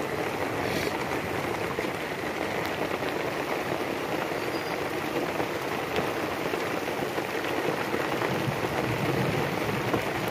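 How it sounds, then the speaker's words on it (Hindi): Steady rain pours down in a constant dense hiss, moderately loud and unbroken throughout, with no talking. "ये देखो कैसे बारिश भी आ गई भाई"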